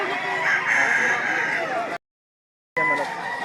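Rooster crowing loud and close in a long cock-a-doodle-doo, cut by a brief silent gap, then the crow picks up again for a moment.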